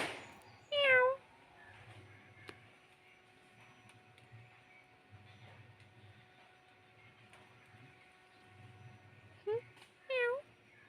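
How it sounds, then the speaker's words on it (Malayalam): A cat meows nearby, once near the start and twice more toward the end, over a low background hum with faint voices. "വീട്ടിൽ സ്ഥിരമായിട്ട് വരുന്നൊരു പൂച്ചയാണ്."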